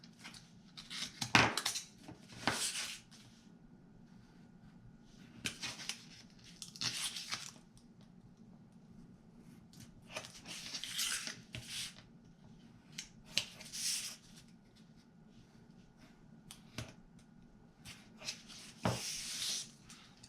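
A finger blade cutting mitered ends on paper scraps for a craft project, heard as close, quiet, brief scratchy slicing and crunching strokes repeated at irregular intervals over a faint background hum.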